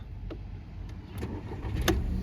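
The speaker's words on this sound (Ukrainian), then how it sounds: "заводиться автомобільчик з півоберту" A Volkswagen Golf 6 Plus with an automatic gearbox and 156,000 km on it starts up. Short clicks lead into the engine catching within a couple of seconds, close and clear.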